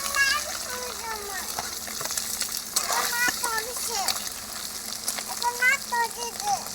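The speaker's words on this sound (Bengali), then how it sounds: "তেল দিয়ে দিলাম এবার এগুলো ভেজে নেব তেলটা গরম করে নিয়েছি" Food frying in hot oil at home, with loud continuous sizzling and spattering close up while a voice speaks over it.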